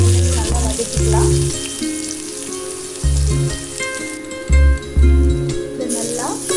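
Mustard seeds splutter and crackle in hot oil for a curry, a steady frying hiss throughout, with repeated louder low tonal bursts layered over it.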